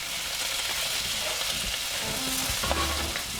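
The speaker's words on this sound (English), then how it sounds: "Now it's time for butter. I add it onto the pan and let it melt slowly." Butter melting and sizzling loudly in a pan with rosemary while a ribeye steak cooks, a dense continuous frying crackle close up, with a few brief stirring clinks near the end and no voices.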